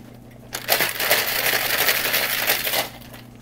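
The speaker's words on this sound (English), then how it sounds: "So we're going to add our ice and we're going to shake it again." Ice rattling hard inside a cocktail shaker while a sour cocktail is mixed, a dense rhythmic clatter that starts abruptly, shakes loud and close for about two seconds, then stops.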